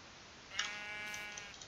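A single short sheep bleat in the video game Minecraft, faint and quavering against a quiet background.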